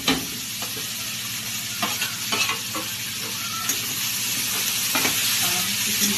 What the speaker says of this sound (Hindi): थोड़ी सी नमक डाल के उसको अच्छे से भून लेंगे, बिल्कुल लाल करना है।